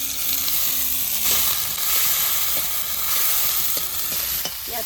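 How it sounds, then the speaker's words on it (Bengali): Onions fried in hot oil in a home kitchen give a steady, loud sizzle that fills the whole stretch, with light stirring scrapes and clinks now and then. "তেলটা গরম হয়ে গেছে, এবার পেঁয়াজগুলো দিয়ে দিই।"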